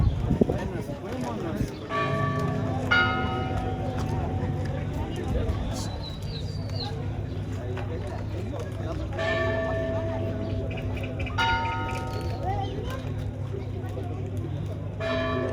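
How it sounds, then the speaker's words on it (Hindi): Church bells ringing out in a small Mexican town during a wedding procession, repeated metallic peals over a low sustained drone with crowd murmur and chatter beneath. "चर्च की जैसे ही घंटियाँ बजी हैं"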